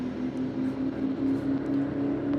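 A Holden VS Ute spinning its tyres at a drag, drift and burnout night in Sydney, heard as a steady engine drone at middle distance with no talk over it.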